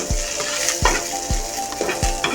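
Green chilies, coriander and curry leaves with salt sautéing in a pan before rice goes in, loud close sizzling with rhythmic spatula scrapes and knocks about every half second, no voices.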